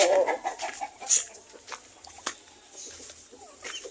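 Turkeys cluck and murmur in short, scattered bursts nearby, with an occasional sharper call among quiet farmyard background.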